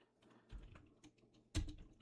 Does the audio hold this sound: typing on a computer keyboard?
yes